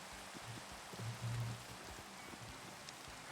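Steady rain falling in Minecraft, a soft continuous wash of raindrops with low patter throughout, moderately quiet and without speech.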